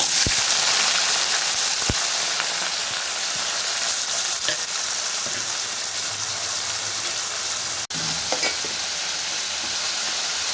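Chopped onions and seasoning seeds frying in hot oil in a pan on a stove, a continuous close bright sizzle with occasional sharp pops and clinks of stirring.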